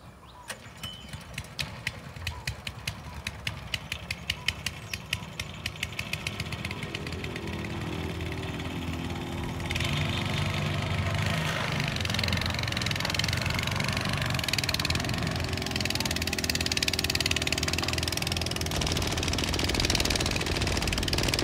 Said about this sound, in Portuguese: Tem uma rabeta saindo ali, ó.